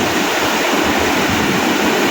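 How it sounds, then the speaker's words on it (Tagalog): Big ocean waves surge at low tide over a rocky shore, a loud, continuous roar of rushing water close by and with no talk. "Lalaking alon yan"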